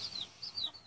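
Small chicks peep with soft, high calls near a hen that recently hatched them, in a quiet poultry setting; several brief cheeping bursts come one after another, faint and close.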